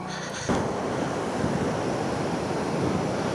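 Loud, continuous rushing of a fast-flowing river swollen after rain in the Bashu Valley roars steadily with a broad, dense hiss, close by and with no voices.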